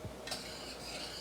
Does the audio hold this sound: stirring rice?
yes